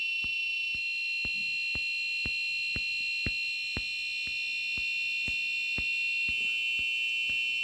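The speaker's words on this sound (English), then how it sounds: "The buzzer is also buzzing." An Arduino alarm buzzer whines steadily at a high pitch, with sharp clicking pulses ticking at an even pace about twice a second.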